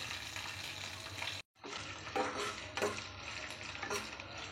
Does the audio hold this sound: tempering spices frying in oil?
yes